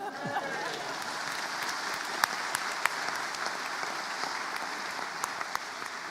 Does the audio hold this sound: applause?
yes